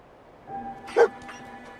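A dog in a video game gives a single short bark with a faint whimper around it, moderately close and brief, against quiet game ambience.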